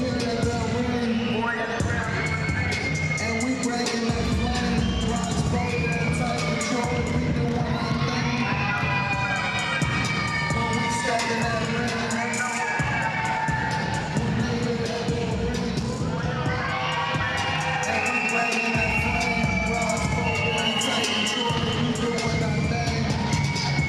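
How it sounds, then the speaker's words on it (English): A wrestling crowd cheering and shouting at an EWA Prime event as a tag team heads to the ring, a loud, dense roar of voices with music and rhythmic thumping beneath. "Crowd is into Grappling Inc. here."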